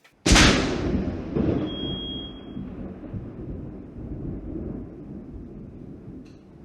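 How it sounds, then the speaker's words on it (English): A giant thunder crack bursts loudly and suddenly from a severe July storm near a house, then rolls into a long rumbling decay that fades gradually over several seconds. "we literally had giant thunder cracks that sounded just like this"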